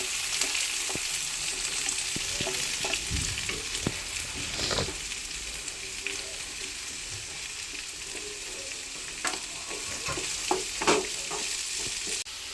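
Ginger, garlic, green chili and onion frying in an oily pan for chana masala, a steady close sizzle with occasional stirring scrapes and clicks, no voices.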